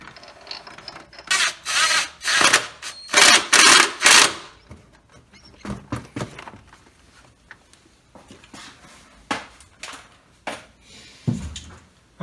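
A ratchet with a 22mm socket tightens a bolt during Nissan 300ZX turbo engine reassembly, with loud rapid clicking bursts in several strokes, then quieter, sparser ratcheting and clunks close by.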